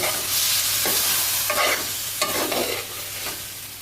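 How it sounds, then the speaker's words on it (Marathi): Boiled chickpeas being stirred and sautéed in an onion-tomato paste in oil for Amritsari chole, with repeated spoon scrapes over a steady close sizzle and no talking. "लगेचच मी यामध्ये हे छोले टाकते जे आपण उकडून घेतले"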